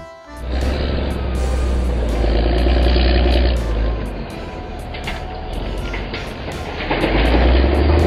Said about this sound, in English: Wheel loader.